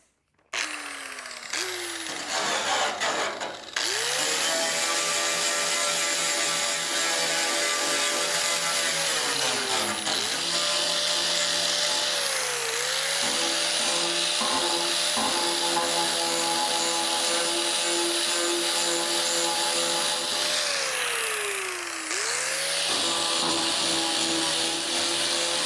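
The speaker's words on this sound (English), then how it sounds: "So I'm going to take and grind these areas out a little bit" An angle grinder working rust spots out of car bodywork, a loud whine that dips and rises in pitch as it bites into the metal, running almost continuously after a few short starts.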